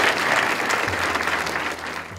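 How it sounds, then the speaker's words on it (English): Audience applause at a hypnotist's stage show: a full round of many people clapping together, loud and continuous, easing off slightly at the end. "Give her a round of applause."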